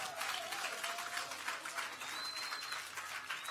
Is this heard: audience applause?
yes